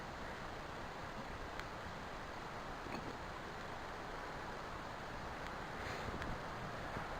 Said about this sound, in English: it's sunny and windy.